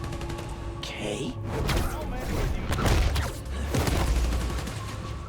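Bursts of gunfire and thuds from a Spider-Man: Miles Morales game fight scene, dense rattling shots mixed with impacts and game music, with a brief spoken word over the clamor.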